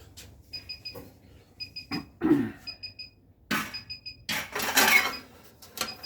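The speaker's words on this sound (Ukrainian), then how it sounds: "пищить уже пивоварня" Short electronic beeps repeat in small bursts from an electric home brewing system, mixed with clunks, rustling and handling noises nearby.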